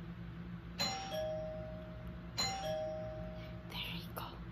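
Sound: doorbell ringing

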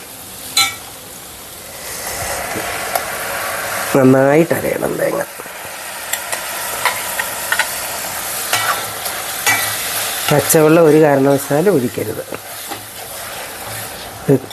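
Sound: ground coconut paste stirred into cooking cucumber

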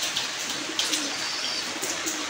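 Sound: pigeons cooing on a rooftop loft

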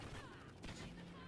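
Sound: gunfire in video game Call of Duty Ghosts

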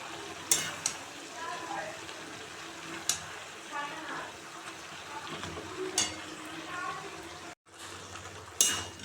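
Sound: frying and stirring shrimp with greens, beans and eggplant

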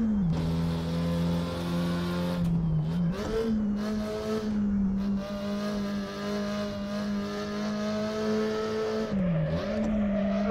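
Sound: Porsche 356 Coupé driving and drifting on a track

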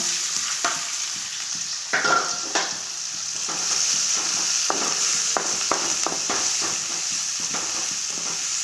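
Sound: onion and green chilli sautéing with cumin

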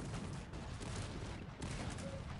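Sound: cannon fire in the video game Cossacks 3

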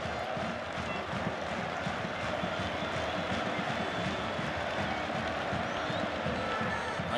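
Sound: stadium crowd chanting

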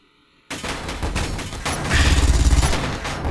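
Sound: turret gunfire in Space Engineers video game

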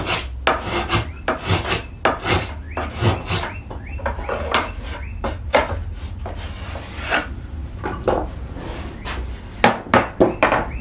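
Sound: spokeshave shaving a riven oak panel

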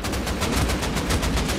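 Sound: gunshots in video game Rust

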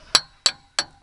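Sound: hammer tapping boat trailer roller into place

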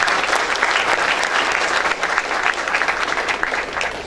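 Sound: audience applause at event

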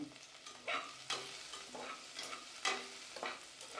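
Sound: sautéing shallots with garlic and ginger for mutton gravy

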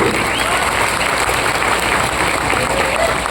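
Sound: crowd applause at a temple event

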